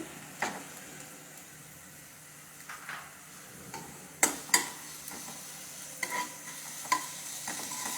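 Spice paste frying in a pan for a vegetable and paneer dish, a soft continuous sizzle broken by several light spoon clicks and scrapes, fairly quiet and close.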